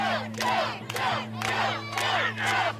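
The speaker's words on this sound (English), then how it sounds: "public emotions boil over with mass demonstrations calling for the killers to be executed" Angry crowd at a mass demonstration shouting in rhythmic chanted bursts, roughly five loud repeated cries at even intervals over a steady low hum.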